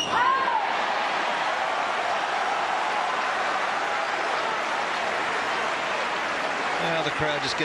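A packed tennis crowd at the 2017 Australian Open final between Federer and Nadal sends up a steady, loud roar of cheering and applause that holds without a break.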